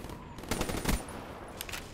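Rapid bursts of HVK rifle fire in a first-person shooter with high caliber equipped, sharp repeated shots in quick succession, loud and close with no talking.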